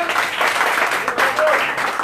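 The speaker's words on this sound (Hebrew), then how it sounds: "כפיים" Audience applause at a Torah lecture event in Haifa, a steady wash of clapping lasting about two seconds with no pauses, moderately loud and continuous from start to finish.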